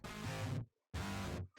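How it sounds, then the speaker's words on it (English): Heavy fuzz and octave guitar with a doubler and no cabinet sim gives a thick, raw distorted tone. Two loud sustained blasts are split by a short silence. "So it's basically a fuzz, an octave, and there's no cabinet."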